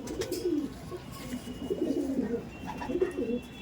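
Old Madras pigeons at a home loft coo repeatedly in soft, rolling low calls, several birds close by, with faint chirps and light background noise between phrases.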